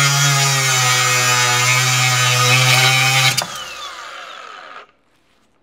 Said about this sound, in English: we're gonna try out the Flex Razor Slice flap disc on this rebar now